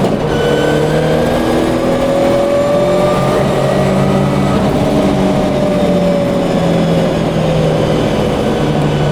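Subaru Impreza WRC rally car on a public road, its engine loudly revving and pulling through the gears, with rising and falling harmonic tones over a constant rumble and no talk.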